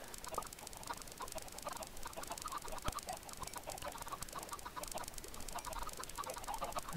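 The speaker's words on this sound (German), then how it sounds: "Ich will nicht wissen, wie viele Hühner wir da drin haben." Chickens in the Minecraft video game cluck in repeated short, quiet bursts, several birds overlapping in a soft, continuous flock chatter with no speech.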